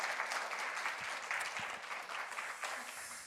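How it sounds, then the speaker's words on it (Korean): A church congregation at a New Year's Eve service applauds the choir with steady, dense clapping that carries on evenly for a few seconds at a fairly soft level, heard from a distance. "우리 박수로 우리 또 격려의 박수 해 주시겠습니다."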